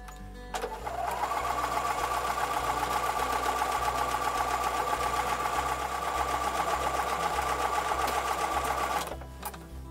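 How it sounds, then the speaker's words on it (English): An electric sewing machine stitching a Tiara Crown quilt block runs for about eight seconds in a steady, fast, even whir of needle strokes, starting and stopping cleanly, close and alone. "I'm going to go back to the sewing machine to sew those two lines of stitching"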